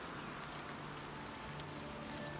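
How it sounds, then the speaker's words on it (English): Rain falls steadily in the video game Oblivion Remastered, a constant even hiss of drops with no voices over it. "Did I just leave this place and it's fucking raining again?"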